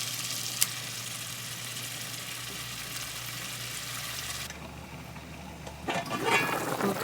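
Vegetables frying in a hot pot over high heat for Senegalese jollof rice, a steady sizzling hiss with a low hum underneath, then a brief burst of louder crackling and stirring near the end.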